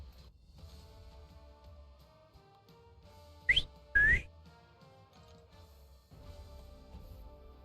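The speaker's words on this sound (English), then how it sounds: "you get to listen to his whistle all the time" A Marvel Contest of Champions character gives two bright rising whistles in quick succession, clear and close over quiet in-game music.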